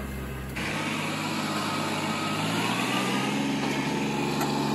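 A tractor engine drones steadily while pulling a lime spreader buggy across a food plot, a close, continuous low rumble with a slight shift in pitch partway through and no talking.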